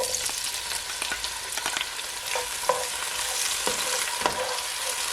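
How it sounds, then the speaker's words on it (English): Tomato frying in a hot pan for Jamaican corned beef and cabbage, a close steady sizzle broken by sharp scraping stirs and clicks of the utensil, with no voices. "So after 15 seconds, I'm gonna add my tomato."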